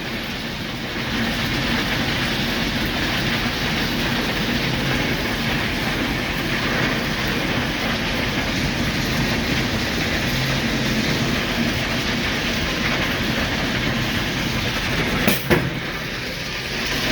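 A ballast train rolls steadily along a railroad track, a continuous broadband rumble and rattle of wheels and cars that holds constant throughout, with a brief sharp squeal or clank near the end.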